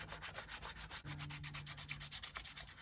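A fingertip rubs back and forth over a paper gasket surface while marking its outline, producing a soft, steady rhythmic scraping close by.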